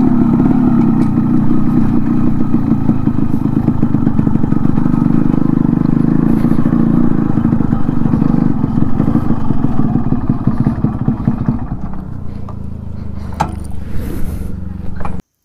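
A Yamaha RX100 two-stroke motorcycle runs steadily close by at the Dihing Patkai gate, its loud, even engine note continuing for about twelve seconds before easing down near the end.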